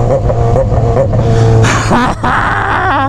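A Yamaha XJ6 motorcycle with a straight-pipe exhaust revs loudly and close by, its engine note rising and falling through several throttle blips.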